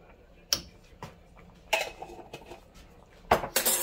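Spoons or utensils mixing pastel filling with oregano in a bowl: a few sharp clinks and scraping taps at irregular intervals, close and fairly quiet, with no voices.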